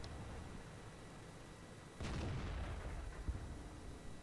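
A tank cannon fires in World of Tanks with a sudden loud boom, followed by a rumbling, decaying blast tail and a sharp secondary thud about a second later.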